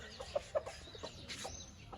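A faint, distant Aseel hen with ten newly hatched chicks gives a few soft clucks and tiny peeps over low background noise.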